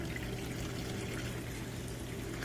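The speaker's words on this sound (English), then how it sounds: "I'm just running some water through there right now from the drain" Steady rush of water running through a dishwasher drain and garbage disposer under a sink with a backing-up air gap, a continuous close wash of flowing liquid with no talking.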